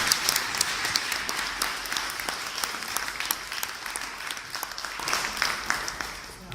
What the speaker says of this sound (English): another round of applause for Oleksii